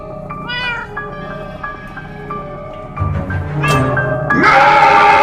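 A cat in the video game Minecraft: Story Mode meows repeatedly in clear, close, insistent cries that grow louder and more strained toward the end.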